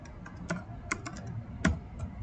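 Keystrokes on a computer keyboard while a network-device banner message is entered in a command-line interface, landing as a handful of separate clicks with irregular rhythm, close and fairly quiet, with no voice over them.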